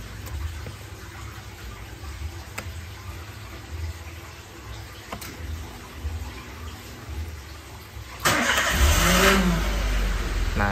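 A motorcycle with a standard keyless starter module idles with a low rumble and faint ticks, then the starter cranks in a sudden loud whirring burst near the end, close and sustained.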